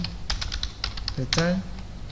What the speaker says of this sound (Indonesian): Kita di sini ketikkan return